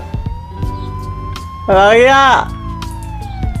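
A police car siren in Grand Theft Auto 5 rises sharply and wails for about a second over steady engine and game noise, while someone shouts briefly.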